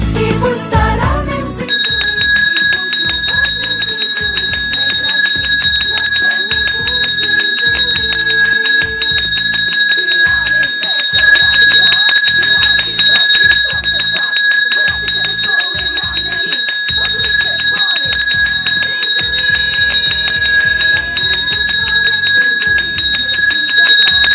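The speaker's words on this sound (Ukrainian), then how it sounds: "Нас кличе дзвоник зинзели" A school bell rings loudly and continuously for the first day of school, a steady metallic tone that sits over rhythmic music.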